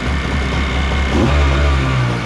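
A loud jetboat engine idles with a low rumble, then revs up and holds a higher, steady drone with no one speaking.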